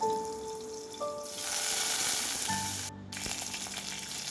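Garlic and curry leaves fry in hot oil for a tomato sambar tempering, a steady close sizzle that swells louder partway through, with a few faint tonal clinks and a brief dropout near the end.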